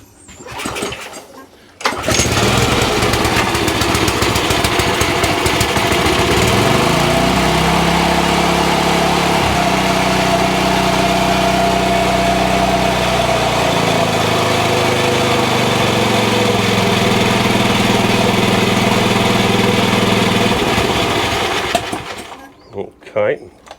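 Massport Olympic cylinder lawn mower small petrol engine, started with choke, catching after a pull and then running loudly and steadily near at hand, its pitch shifting as it settles toward idle before cutting out.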